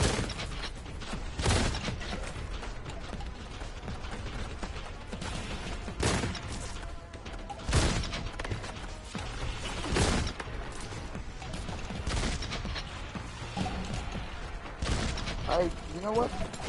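Boltgun gunfire in the Warhammer 40K Boltgun video game, sharp individual shots spaced every second or two among clanking mechanical reloads and game noise, with talk underneath.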